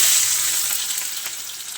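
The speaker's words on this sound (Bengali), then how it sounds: "চলুন পেঁয়াজটা দিয়ে দেওয়া যাক।" Onion hitting hot oil in a pan for a chicken curry, a loud steady sizzle that eases off slightly over the short stretch, with no voices.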